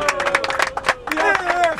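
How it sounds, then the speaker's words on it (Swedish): Audience applause at a Swedish football supporters' gathering, a short burst of crowd clapping mixed with cheering voices and chatter, fairly close and lively for under two seconds. "Applåder då!"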